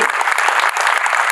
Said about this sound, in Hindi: सरदार पटेल जी को हम लोग एक बार बड़ा ताली से याद करते रहना चाहिए